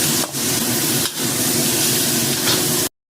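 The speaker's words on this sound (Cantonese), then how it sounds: "將啲蒜頭啊、蒜苗個頭掟埋落去炒香佢" Garlic and garlic sprout heads stir-fried in a hot wok for Hunan beer duck give a steady, close hiss and sizzle with a couple of brief stirring dips, ending abruptly in silence.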